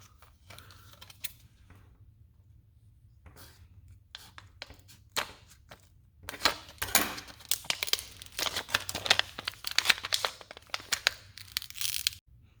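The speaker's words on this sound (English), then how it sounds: "Let me get these open real quick." Plastic blister packaging for CR2032 key fob batteries crinkled and torn open up close, with scattered crackles building into a dense stretch of crunching and ripping.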